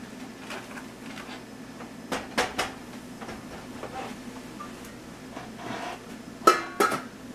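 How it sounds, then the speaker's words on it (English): Spoon scraping and clinking against a pot while mushy cooked rhubarb juice is stirred, a string of light metallic taps and knocks with sharper clacks near the end, close and quiet, no talking. "Just going to give it a stir."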